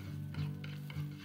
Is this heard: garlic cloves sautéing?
yes